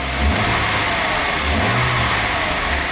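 A Jaguar XJS 3.6 with the AJ6 straight-six engine, heard close up as it is revved in short rises over a steady idle, with the engine note swelling twice before settling back.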